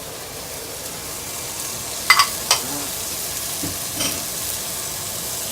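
Bok choy fries in hot oil in a pan for General Tso's chicken, a low, steady sizzle with a couple of brief clinks and stirring knocks, close up and without voices.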